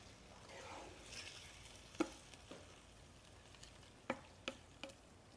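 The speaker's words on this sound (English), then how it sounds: "Now, I'm going to stir all that together." Sauerkraut and its liquid get stirred together in a pot. Soft, wet swishing carries a few sharp clinks of the utensil against the pot, all fairly quiet with no voice.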